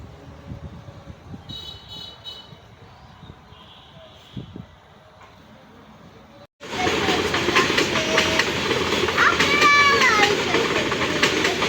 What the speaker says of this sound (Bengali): খুবই সুন্দর লাগছে এই ব্রিজের উপর দিয়ে যখন ট্রেন যায়